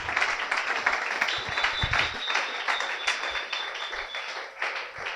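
A church congregation claps and cheers loudly, with the dense applause sustained throughout under a bright, steady crowd roar.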